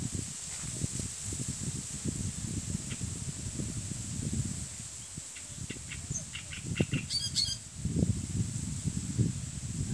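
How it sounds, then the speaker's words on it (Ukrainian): A bird sings beside a quarry lake fed by springs, giving short, bright chirps and trills at a moderate distance over steady wind and rustling outdoor noise. "гарний птах. Що за птах, я не знаю. Ну, Співає гарно."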